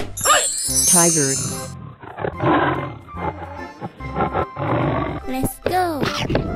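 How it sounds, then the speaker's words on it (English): A tiger roars in a few rough, loud bursts up close, amid mixed animal cries and chatter. "Tiger."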